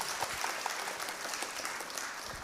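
A crowd at a Delta State security trust fund event gives a steady burst of applause for General Lucky Irabor, with continuous clapping heard alone throughout.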